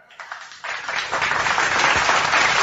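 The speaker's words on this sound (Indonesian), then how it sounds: "Tepuk tangan buat teman kita." Clapping from a comedy show audience starts as a few scattered claps, then swells after a moment into full, loud, sustained applause that carries on to the end.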